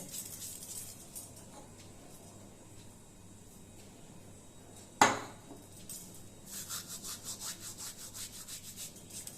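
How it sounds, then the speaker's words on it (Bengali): Dried fenugreek leaves (kasuri methi) are crushed between the hands, giving soft rhythmic rustling and rubbing strokes near the end, quiet and close, after a single sharp tap in an otherwise hushed kitchen. "আমি একটু ক্র্যাশ করে হাতে ক্র্যাশ করে কসুরি মেথি দেব"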